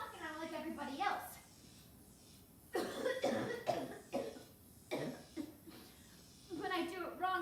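Someone coughing after inhaling smoke, with several harsh rough coughs in bursts, mixed with a voice and chuckling, fairly faint overall.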